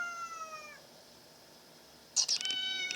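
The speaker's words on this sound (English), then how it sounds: "Okay, Streaming Cat, I'll let you out in a minute, but I must finish this game first." A house cat meows to be let out, two drawn-out calls with a quiet gap between them, close and clear against a hushed indoor room.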